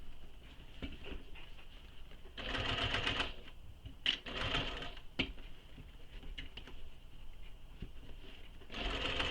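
A domestic sewing machine stitching fabric seams with a zipper foot, a steady mechanical whir in several bursts separated by brief pauses, close and fairly quiet.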